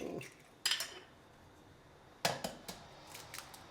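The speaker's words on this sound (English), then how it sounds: "So crack the eggs into your bowl, like so." Three eggs cracked into a bowl for a mushroom omelette: two sharp shell taps against the rim, each followed by brief clinks and small rattles, close and quiet over a soft background with no talking.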